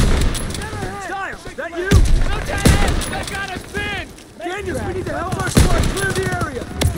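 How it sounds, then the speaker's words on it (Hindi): Gunfire in a Call of Duty WW2 battle: loud, repeated sharp shots and rattling bursts sound near and far over several seconds, while someone speaks briefly between them. "Gunfire! Must be near our guys."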